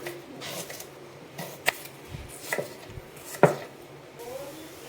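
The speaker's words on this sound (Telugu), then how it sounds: "ఆనియన్స్ పచ్చిమిర్చి ఇలా కట్ చేసుకోవాలి." Onions and green chillies being chopped with a knife on a board, a few sparse sharp cuts spread over a quiet background with no talk.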